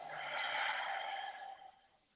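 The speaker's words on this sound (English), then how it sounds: "now slow breathing with that" A single slow, airy exhale during a qigong breathing exercise, soft and close, swelling then tapering away over about two seconds.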